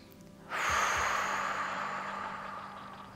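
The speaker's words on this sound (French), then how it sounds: "Vous inspirez." One long, deep breath drawn in by a person during a stomach massage, starting abruptly and then trailing off slowly, close and quiet, with nobody speaking over it.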